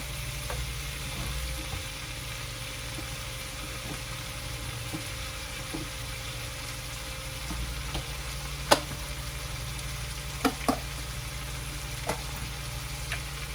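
Chicken liver stirred in a hot pan for crispy sisig, a continuous close sizzle of frying with occasional sharp scrapes and clinks of a utensil against the pan.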